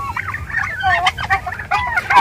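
Several turkeys gobble in overlapping, warbling bursts, fairly close and loud, with a steady low background rumble.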